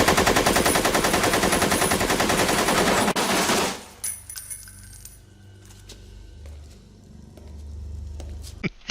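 Sustained machine gun fire from the action film True Lies, a loud, dense rapid burst lasting about four seconds as bullets spray into a bathroom, then cutting off to quieter debris rattles, clinks and settling noises.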